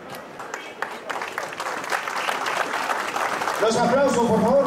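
A crowd at a police promotion ceremony breaks into applause, a dense rising patter of clapping, while a voice speaks over it toward the end.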